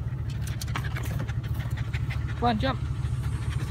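A dog pants in a parked truck with quick, rhythmic breathing over a low engine hum. Someone speaks close by, and a short whine comes partway through.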